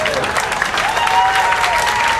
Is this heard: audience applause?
yes